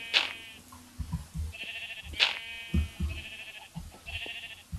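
Two loud, high sheep bleats in Minecraft, each followed by a sustained nasal tone, with soft thuds and shuffling underneath.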